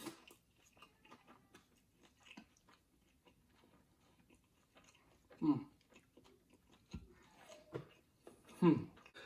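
Crunchy halal chicken gyoza dumplings are chewed quietly and close, with soft irregular bites and crunches spread through the clip, a few louder munches standing out against near silence.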